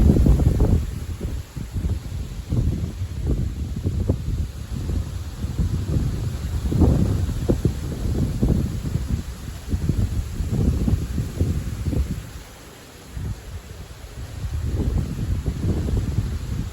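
Strong gusting wind ahead of a July thunderstorm with a small arcus cloud, roaring loudly in uneven surges against the microphone, easing briefly near the end before rising again.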